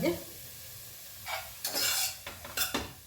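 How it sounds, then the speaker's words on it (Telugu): Mixed vegetables frying in a pot for soup, a quiet low sizzle broken by a few scraping stirs of a utensil against the pot, close and faint. "కొద్దిగా ఇవి వేగాలి."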